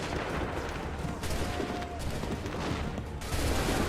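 Soldiers in Assassin's Creed 3 fire a volley of muskets, a ragged crackle of overlapping gunshots with a few sharper bursts, moderately distant and without talk.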